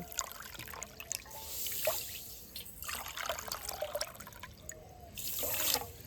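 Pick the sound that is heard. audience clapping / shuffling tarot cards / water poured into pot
water poured into pot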